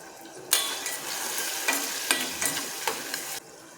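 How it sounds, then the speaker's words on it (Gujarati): Potatoes with turmeric powder stirred and fried in a pan, a steady close sizzle with repeated scraping stir strokes that start abruptly and stop just before the end. "હવે આપણે એમાં બટાકા નાખીશું।"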